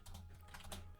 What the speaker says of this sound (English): The vigorous typing.